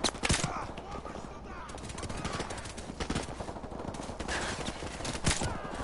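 Rapid gunfire bursts from an online shooter game, dense and continuous, with sharp repeated cracks and occasional louder shots, while a voice comments over the action.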